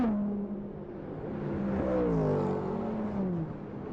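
A Le Mans race car, Mercedes or Toyota, is heard at a distance as it brakes for a final right-hand corner, its engine note dropping and swelling steadily over several seconds.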